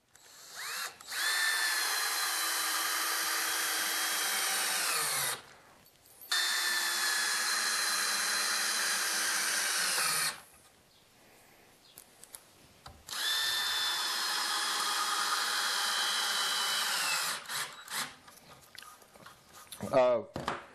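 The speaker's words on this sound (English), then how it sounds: "now we'll put the screws in on this side" Construction screws being driven with a power drill into the wood of a saw horse, three long whirring bursts of about four to five seconds each separated by short pauses, close and loud, followed by a few light knocks.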